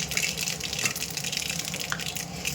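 Mustard seeds crackle and sizzle in hot oil in a kadai, a close, continuous frying hiss with scattered small pops throughout.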